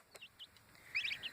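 Bronze turkeys squabbling through a fence, giving short high squawks and chirping calls in scattered bursts that grow louder and more frequent toward the end, heard alone without talk.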